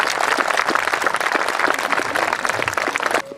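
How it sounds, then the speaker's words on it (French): A crowd at an outdoor medieval festival applauds steadily for about three seconds, dense clapping that stops abruptly at the end. "je pense qu'on peut lui faire un petit applaudissement"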